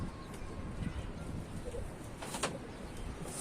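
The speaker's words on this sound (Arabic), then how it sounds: "بص هو الله اعلم بقى فرد الحمام ده شقلباز، بس هو مش شقلباز، عينيه بيضه." A pigeon coos softly in a few low, rolling calls against a dense background of noise, with a brief sharper sound near the end.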